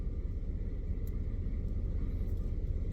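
Steady low rumble inside a parked car, a constant dense hum of engine and road-like noise filling the whole stretch with no breaks or talk.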